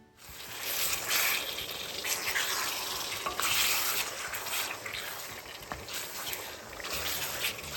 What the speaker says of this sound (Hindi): अब हम चिकन को मसाले के साथ 4 से 5 मिनट हाई फ्लेम पर पकाएंगे।